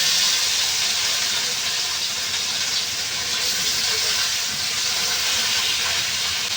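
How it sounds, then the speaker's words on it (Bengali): Fish fry one by one in hot oil, a loud, dense, continuous sizzling hiss held steady throughout, close to the pan with no talk over it. "এখানে আমার তেল গরম হয়ে গেছে, মাছগুলো দিয়ে দেবো এক এক করে।"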